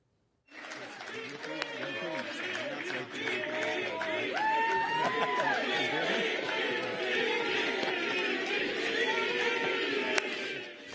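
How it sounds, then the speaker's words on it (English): Rally crowd of Vivek Ramaswamy supporters chanting and cheering, a dense, loud roar of many voices with shouted rhythmic calls sustained throughout. "they're screaming Veep for Vivek Ramaswamy"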